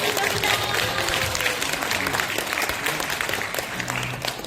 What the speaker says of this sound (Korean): 지속적으로 후원해 주신 부모님의 박수 부탁드리겠습니다.